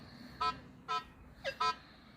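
A detector device gives a short electronic alert: four tonal beeps in two pairs, fairly faint over a steady low background hum, with no talk.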